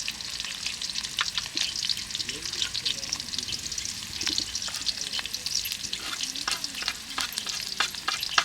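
Onions fry and sizzle in a pan while a utensil stirs them, a constant soft hiss broken by frequent scraping clicks, close and fairly quiet with no talk.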